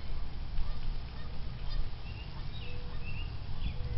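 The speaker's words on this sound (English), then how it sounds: "Did you hear the geese?" Geese on a park lake give faint, scattered honks in the distance, several brief calls in the second half over a steady wash of wind and outdoor noise.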